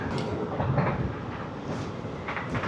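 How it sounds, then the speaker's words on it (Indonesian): A train passing by a road, heard as a steady, moderately loud rumble with faint rhythmic clatter mixed into traffic and wind noise, without any talking. "Ada kereta"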